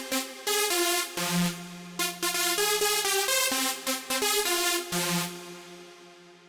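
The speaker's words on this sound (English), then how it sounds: "So the third and final drop melody sounds like this." A bright synth lead plays a bouncy, staccato drop melody for an electronic dance track, stabbing notes in a quick rhythm over a sustained low tone, clear and prominent with no voices.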